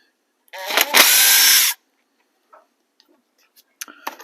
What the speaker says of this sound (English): So we're going to start by removing this motor bolt.